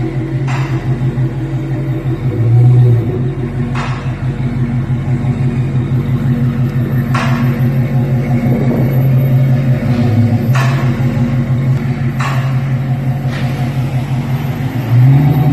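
A Dodge Hellcat with a newly fitted active exhaust system is driven, its engine giving a loud, steady low rumble heard from inside the car, broken by occasional sharp rattling knocks.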